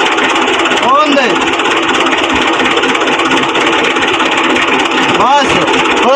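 A tractor engine drives a wheat thresher during the harvest, a steady droning hum running throughout, with voices talking over it.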